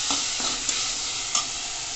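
Chilli paneer being stir-fried with sauces in a pan, giving a steady close sizzle with brief scraping stir strokes at intervals.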